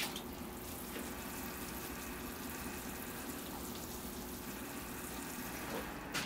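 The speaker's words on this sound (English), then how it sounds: "All right, here I go with the water." Water pours steadily from a can over a freshly repotted French lilac bonsai, a continuous close splashing wash that runs unbroken for several seconds.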